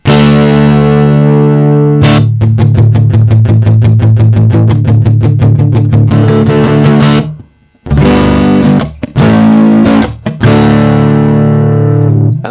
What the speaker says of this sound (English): That's a lovely sounding distortion